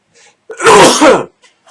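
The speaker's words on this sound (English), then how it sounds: "Sorry, I had a sneeze." One sharp, loud human sneeze bursts out close to the microphone with a quick intake before it, followed by brief faint breaths in an otherwise quiet room.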